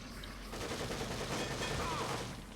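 Sustained machine gun fire in the horror video game The Evil Within, a rapid continuous burst of rattling shots that fills the clip at moderate loudness.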